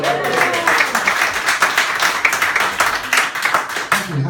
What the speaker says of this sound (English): I think I should get a very special round of applause this evening